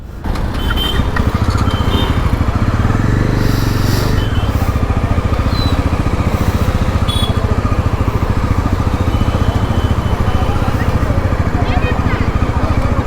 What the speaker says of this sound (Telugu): వావ్, క్లచ్ వదిలితే బండి ఉరుకుతుంది అసలు గట్టిగా